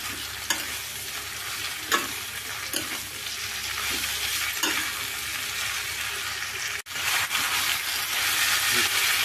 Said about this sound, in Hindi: मीडियम गैस पर हम इसे अच्छी तरह से फ्राई करना है